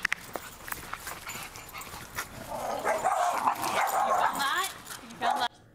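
Dogs bark, yip and whimper in an agitated scuffle behind a fence, the sounds layered and rising to a loud, tangled peak, with a voice speaking over part of it.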